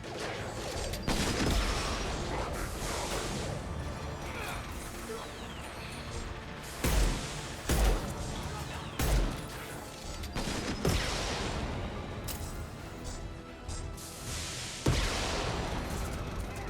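Rifle fire in the sci-fi shooter Mass Effect 2: repeated sharp bursts of shots and bangs over a steady mechanical game soundscape, loud and close, with several distinct heavy hits spaced across the stretch.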